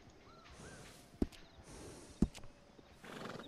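A horse in the video game Red Dead Redemption 2 gives quiet snorts and soft whinnies, with two sharp hoof knocks standing out against a faint, low background.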